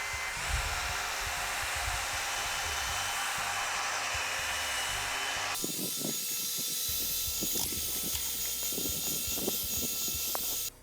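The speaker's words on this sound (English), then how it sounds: "when I put in the drill mixer, I'm going to be going in an up and down and slight side-to-side motion" Drill mixer stirring asphalt sealer in a drum, a loud continuous motor whine that abruptly shifts to a lower churning drone with knocking and sloshing of the thick liquid.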